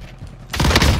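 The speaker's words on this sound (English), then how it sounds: "I'm under fire!" Gunfire in the Rebirth Island battle game: a sudden loud, dense crackling burst with a heavy low rumble kicks in halfway through after a quieter lead-in.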